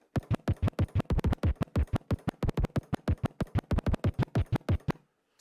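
Rapid, rhythmic turntable scratching: a steady run of short, sharp chirp scratches in quick succession, loud and close, stopping abruptly near the end.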